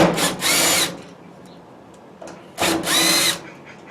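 A power driver unscrews Phillips screws on an electric dryer while its cord is changed, in two close whirring bursts about two seconds apart with quiet handling in between.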